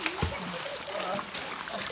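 Water splashes and sloshes outdoors as people bathe in a rocky provincial spot, a close, continuous churning with small splatters, mixed with voices talking.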